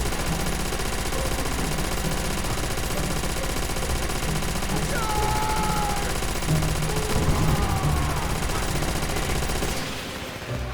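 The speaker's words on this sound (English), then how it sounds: "Now it's my time to use the MG." A machine gun in Call of Duty: World at War fires in a sustained, loud, continuous rattle for about ten seconds, with faint whistling tones and game effects underneath before it tapers off at the end.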